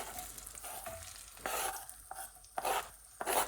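Diced onion and garlic tumble into a hot pan to sweat for a seafood boil sauce. Close scraping and stirring bursts come in quick clusters over a soft, steady sizzle.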